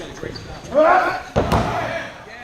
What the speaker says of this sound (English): Nick Righteous to his feet and slams the champ into that ring apron to break the hold